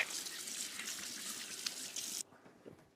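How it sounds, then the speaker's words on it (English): Water runs steadily from a kitchen tap as hands are washed, a soft constant splashing hiss that cuts off abruptly, leaving a few faint drips. "just gonna wash my hands."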